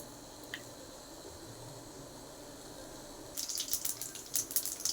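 Mustard seeds dropped into hot oil for tomato rice start crackling and popping about two-thirds of the way in: quick, bright, irregular sputters at moderate loudness, with nothing before them but quiet kitchen background.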